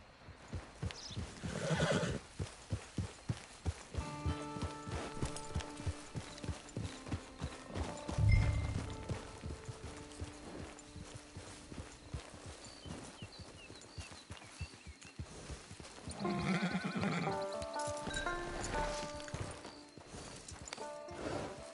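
A horse whinnies loudly in the video game Red Dead Redemption 2, then hooves clop steadily at a walk before another neigh, all over soft background music.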